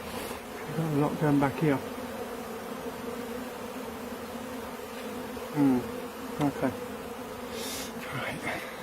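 Steady insect buzzing of many bees throughout a hive removal, as bees are poured from a bucket into a hive, with someone speaking briefly near the start and again later over the hum.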